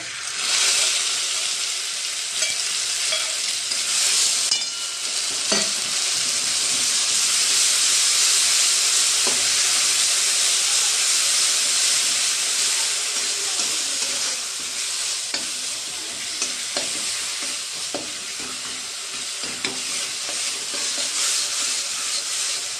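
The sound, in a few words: ginger garlic paste sizzling while frying in oil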